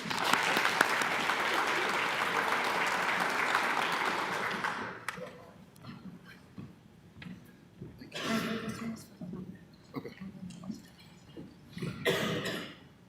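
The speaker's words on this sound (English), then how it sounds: "I noticed there wasn't too much clapping" An audience welcoming a pastor to speak at a recovery and remembrance gathering in Raton, New Mexico, claps steadily for about five seconds before the applause fades, leaving scattered coughs and a few brief stray claps in a quiet room.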